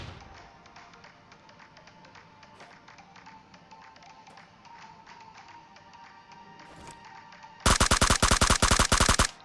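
Rapid automatic gunfire in PUBG Mobile breaks out late as a loud, fast burst of closely spaced shots after a long stretch of quiet in-game ambience with occasional faint clicks.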